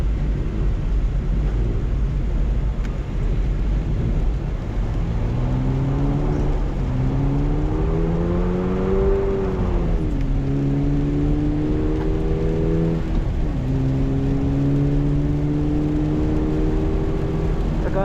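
A 2023 Subaru BRZ engine revs hard while drifting, heard from the cockpit as a loud droning tone that climbs, dips with shifts and climbs again over steady road and wind roar.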